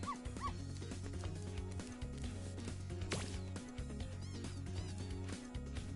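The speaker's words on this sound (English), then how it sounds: "Now he's stuck down there, and I feel so helpless, sitting up here, listening to his steadily softening whimpers." A dog whimpers from down a hole in the video game Bucket List, with soft, repeated whines and yips over a busy game soundtrack with music and effects.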